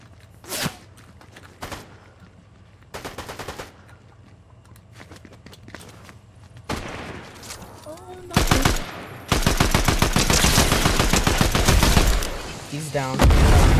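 Bursts of automatic gunfire in the video game Fortnite, with short scattered volleys early, then longer, louder sustained rapid fire near the end, separated by quieter gaps with faint footsteps.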